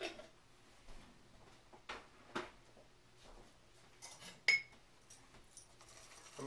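A utensil stirring a chipotle sauce, sugar and salt marinade for venison or beef jerky in a bowl: faint, scattered clinks and light scrapes at irregular intervals, with one louder knock midway, in an otherwise quiet room.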